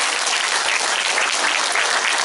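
Audience applause at an Islamic religious gathering in Ponorogo, a dense, steady roar of many hands clapping without break, loud and close.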